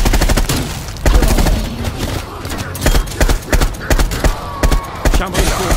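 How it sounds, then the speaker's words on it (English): Rapid bursts of incendiary weapon fire in Call of Duty Black Ops Cold War Zombies, Outbreak mode, loud and continuous with repeated sharp shots, mixed with game effects and faint voices. "Firing incendiary."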